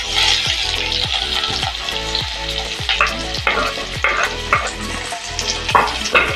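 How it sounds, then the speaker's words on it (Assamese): Onions fry in hot refined oil in a kadai, a loud continuous sizzle broken by regular scraping stirs. "এইখিনি গৰম হ'ল, মই এই পিঁয়াজখিনি ভাজি লওঁ।"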